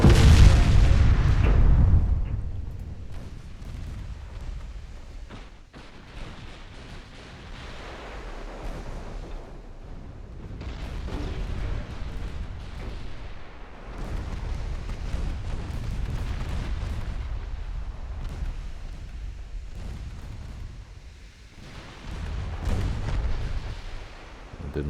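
Warship secondary guns firing in Ultimate Admiral: Dreadnoughts during a 1913 French naval campaign battle: a loud boom opens, followed by repeated low rumbling blasts and surf-like wash throughout, with a brief voice.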